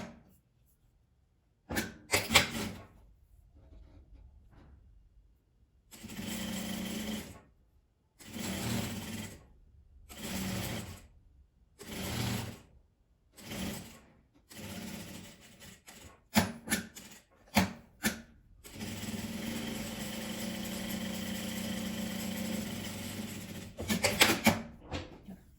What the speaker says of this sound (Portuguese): E vou passar uma costura prendendo ela toda.